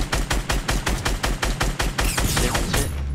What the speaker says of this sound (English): that sounded like a shot behind us